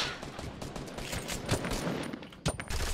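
Dense, continuous gunfire in the battle royale video game Fortnite, with rapid overlapping shots and a few sharper, louder bursts standing out from the sustained barrage.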